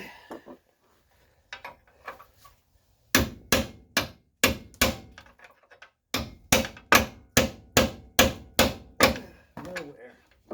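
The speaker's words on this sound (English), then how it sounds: "Now, hopefully I can hammer it out." A big hammer strikes a drift on a Kia Sportage in a series of sharp, ringing metal blows, a few scattered hits first and then steady rhythmic pounding, loud and close with a brief quiet gap between two volleys.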